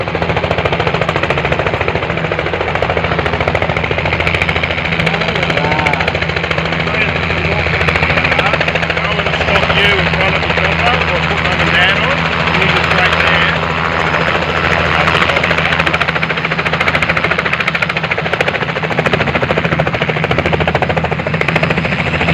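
Inside a helicopter during a ride, the engine and rotor keep up a loud, constant, close thrumming roar with a rapid chopping pulse for the whole stretch, and voices are buried underneath.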